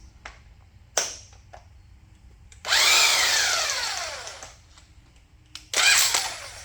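A 3/4-inch impact wrench bursts on in short, loud whirring runs, one long spin-up and decay between brief clicks and a final short burst, close up.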